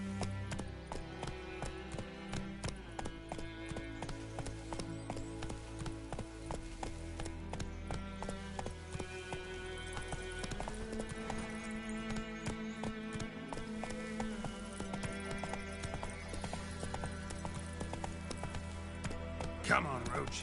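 Hooves of Geralt's horse Roach running in the video game The Witcher 3, a steady galloping clip-clop rhythm throughout, close and continuous, under background music and occasional speech.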